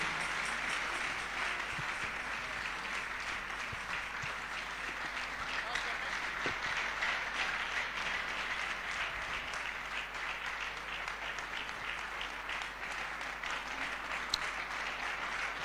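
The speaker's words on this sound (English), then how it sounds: "Continue to clap your hands." Congregation clapping hands at a prayer congress, a long, even wash of many hands clapping at steady volume from start to finish, with a low hum beneath and occasional faint voices.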